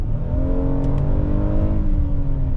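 A 2025 Hyundai Palisade SUV accelerates, its engine drone rising steadily in pitch and holding loud and close throughout, with a faint pair of ticks partway through.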